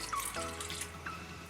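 Water from a glass is poured into cooking tapioca with ground masala, a soft, close trickle and splash lasting about a second.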